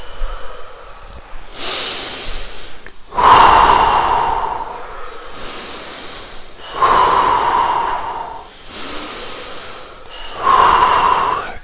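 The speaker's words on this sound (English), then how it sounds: "Breathe faster and breathe deeper." Fast, deep breathing exercise done in a temple in Japan, with long loud rushing inhales and exhales in a slow repeating cycle, close to the mic and heard alone.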